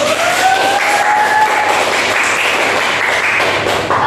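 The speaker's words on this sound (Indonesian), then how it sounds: "Tepuk tangan untuk Nak Meli." Classroom applause from a group of sixth-grade primary school pupils during a Pancasila civics lesson, a steady dense wash of clapping and chatter that holds at a constant level throughout.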